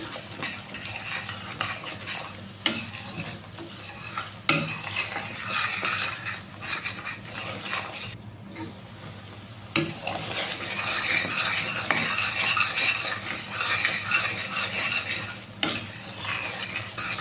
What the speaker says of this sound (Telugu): పచ్చి పచ్చివాసన మసాలా అంతా మంచిగా ఫ్రై అవ్వాలి అంతవరకు మనం ఫ్రై చేస్తూనే ఉండాలి